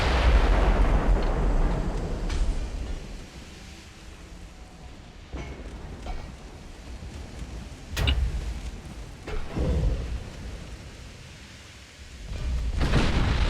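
Naval gun salvos in Ultimate Admiral: Dreadnoughts, deep rumbling booms rolling out at irregular intervals, a heavy blast at the start and several more later, some sharper and some distant, no talking.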